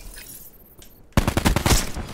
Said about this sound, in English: We're running the SWAT, the new DLC weapon in Black Ops 4, the SWAT assault rifle.